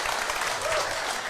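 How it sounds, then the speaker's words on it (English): A crowd at a live sports-talk event claps, a brief dense burst of applause heard fairly close, with faint voices mixed in. "Good, clap again, why not?"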